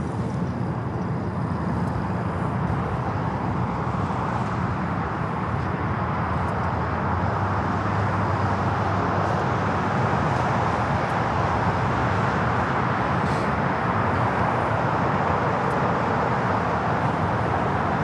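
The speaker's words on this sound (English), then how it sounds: "This is KLM 602 taking off to Amsterdam on the 787-10 Dreamliner." A KLM Boeing 787-10 Dreamliner taking off from LAX for Amsterdam makes a steady, distant jet roar that holds level for the whole stretch, with no talk over it.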